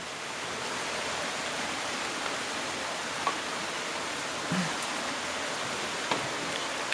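Steady rain hisses evenly throughout on a Fiat Grande Punto's side mirror, with a few louder drops tapping now and then; no one speaks.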